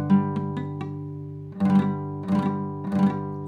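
An electric guitar plays a power chord with the bottom strings muted over a sustained tone, several quick muted chugs followed by three louder strummed hits in a down-down-up rhythm, close and with no talk.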